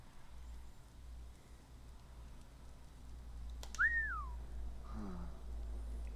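A single short rising-and-falling whistle sounds once, mid-clip, in the Assassin's Creed IV Black Flag video game, standing clearly above a steady low ambient rumble with no talk.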